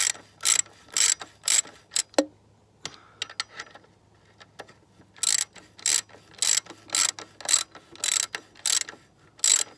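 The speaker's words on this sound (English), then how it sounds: "Now I'm just going to go ahead and take them out with a ratchet." Hand ratchet removing torque arm bolts on a Mini Cooper S R56, a series of quick close ratcheting clicks in rhythmic bursts with a brief pause in the middle.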